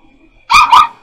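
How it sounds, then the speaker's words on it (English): Two quick, loud dog barks close by, one right after the other, ringing out indoors in a house with many dogs after a near-silent pause. "And I am so sorry about the dogs"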